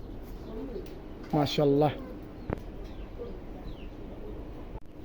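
German Modena pigeons of spangle coloring give a short burst of cooing, a couple of close warbling calls in the middle of the clip over faint room noise, with someone speaking briefly.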